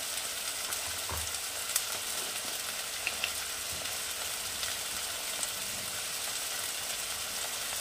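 Small pieces of boneless chicken with garlic paste fry in a pan for chicken tehari, giving a steady soft sizzle with occasional stirring knocks and scrapes, close by and without talk.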